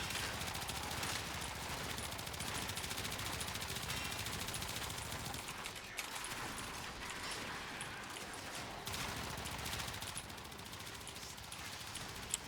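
Kuva Twin Stubbas dual automatic pistols firing in Warframe, a dense, continuous rattle of rapid gunfire with bursts and brief pauses, mixed with game effects and no talk.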